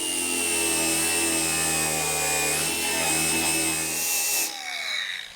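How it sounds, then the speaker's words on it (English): A grinder works down welded steel on a Nissan 240SX hood, giving a continuous, loud high-pitched whine with a steady tone that drops and fades as the tool spins down near the end. "I think once I hit it with the grinder, it'll be okay."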